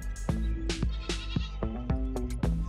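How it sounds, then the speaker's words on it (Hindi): Sheep and goats tethered in front of a village house in Pakistan bleat repeatedly and loudly at close range, their calls overlapping in a quick, uneven series. "ये इन लोगों की भेड़ बकरियाँ जो इसके घर के सामने बंधी हुई"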